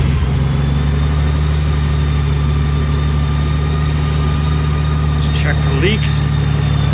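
The engine of a 2014 Honda Valkyrie motorcycle idles steadily close by after an oil and filter change, a continuous low rumble under brief talk.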